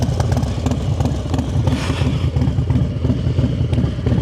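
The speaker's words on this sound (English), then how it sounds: "So this is my husband's bike. It actually sounds pretty tough. It goes pretty hard." Harley-Davidson Road Glide motorcycle engine revving close by, a loud throbbing rumble that rises and surges in pulses over several seconds with rattling mechanical clatter and no talk.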